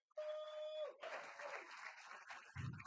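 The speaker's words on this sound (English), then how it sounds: "Can we give them one more round of applause?" Audience applause for student musicians at a school governing board meeting, a burst of clapping rising after a brief tone and continuing steadily for a couple of seconds, with a thud at the end.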